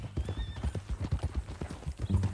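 Rapid, rhythmic horse hoofbeats clopping steadily at close range in Red Dead Redemption 2, with a brief snort or whinny near the end.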